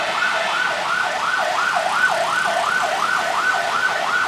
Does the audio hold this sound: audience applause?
no